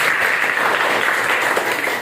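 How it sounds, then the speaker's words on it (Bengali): Students applaud loudly in a sixth-grade classroom, a dense, even wash of clapping that holds steady throughout at close range, with no voices over it. "তাদের জন্য সবাই একটা জোরে করতালি"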